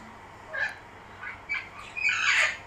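An Alexandrine parakeet gives several harsh, shrill squawks, spaced out, ending in a longer, louder screech; close by, no talking.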